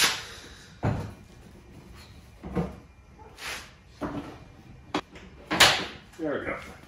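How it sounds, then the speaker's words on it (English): A Jeep YJ tailgate is being fitted back on, giving a series of hollow metallic knocks and clunks spread over several seconds, with a few sharper bangs near the end and someone talking between them. "Get the tailgate on."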